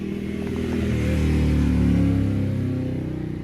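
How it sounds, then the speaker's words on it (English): A motorcycle passes at moderate distance, its engine drone swelling toward the middle and fading again over about three seconds, heard alone without talk. "There's a motorcycle."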